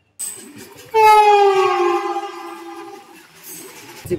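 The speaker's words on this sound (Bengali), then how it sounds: "আর পাশে দিয়ে এখন যাবে 12819 উড়িষ্যার সম্পর্কক্রান্তি এক্সপ্রেস।" An express train passes alongside, opening with a loud, close, sustained horn blast over a rushing rumble and wheel clatter that fade away.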